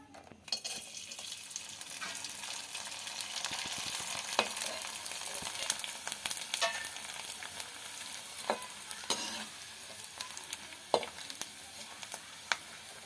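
Hot oil frying rice murukku dough in a pan, a soft continuous sizzle and crackle with occasional sharper pops, fairly quiet and close, with no voices.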